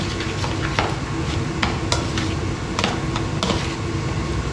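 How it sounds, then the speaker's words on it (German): Chicken fricassee is stirred in a pot after pepper goes in, a spoon scraping and clicking against the pot in irregular strokes over a steady background hiss of cooking, close and moderately loud, with no voices. "Und durchrühren."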